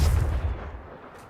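The Confringo fire spell in Hogwarts Legacy lands as a single deep, booming blast that rumbles and fades out over about a second, with no voices.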